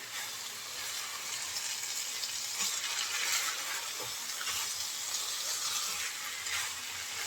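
Rice and lentils frying with spices in a pot for bhuna khichuri, giving a steady soft sizzle and hiss with faint scraping of stirring throughout, fairly quiet and close with no talking.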